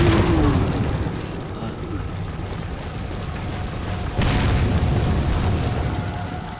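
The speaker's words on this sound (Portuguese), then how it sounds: "Agora joga a granada de fragmentação." A fragmentation grenade going off in Resident Evil 4: a heavy boom over loud rumbling game noise, followed by a second sharp blast later, with low background sounds and no clear talk.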